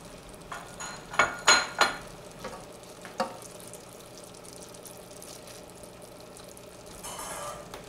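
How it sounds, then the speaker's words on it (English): Shrimp go into a pot of jambalaya with a few loud clattering knocks and splashy stirring early on, then a low simmering hiss and a final soft scrape. "Now it's time to add the shrimp."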